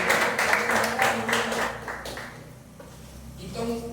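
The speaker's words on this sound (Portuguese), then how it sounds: "Pode aplaudir o Senhor" A church congregation claps in a burst of praise during a worship service, with quick uneven claps over a steady low musical hum before tapering off.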